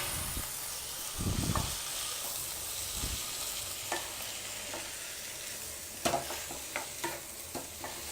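Chopped tomatoes go into browned onions frying in a pan for a Tamil-style dal, giving a steady close sizzle broken by a few scraping stirs and soft clinks, with no talking.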